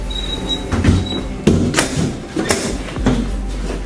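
Lift doors sliding shut and open in a building, with several thuds and squeaks from the door mechanism at irregular intervals and a faint electronic tone in the background, heard without talk.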